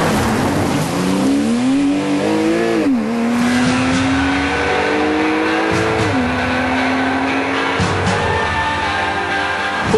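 A Porsche with a PDK dual-clutch gearbox accelerates hard, its engine note climbing steadily then dropping sharply at each quick gear change, repeating through several shifts, loud and close with no talk.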